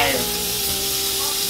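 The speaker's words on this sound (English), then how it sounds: "oil's going to be jumping all over the place" Hot oil sizzles and spatters steadily in a pan while seafood risotto ingredients cook, a dense, loud, continuous frying hiss with no talking over it.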